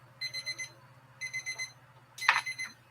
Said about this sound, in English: I know it's the timer